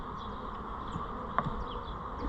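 Honeybees buzzing steadily around an open hive during an inspection after almond pollination, a constant close drone with individual bees zipping past near the listener and no talk.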